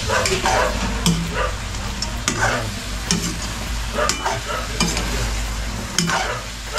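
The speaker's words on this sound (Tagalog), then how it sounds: "Tapos, haluin mo natin siya mga kautol." A spatula stirs food in a hot frying pan, steady sizzling broken by repeated scraping strokes, close and loud with no talk.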